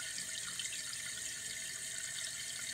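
A toilet tank refilling after a flush, a steady close hiss of running water filling the tank without pause as the valve nears its shut-off point.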